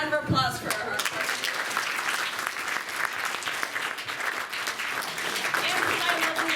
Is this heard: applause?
yes